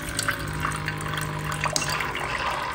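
Bartesian cocktail machine on its rinse and clean cycle, water running and splashing steadily with small drips and clicks throughout, moderately loud and close, no voices.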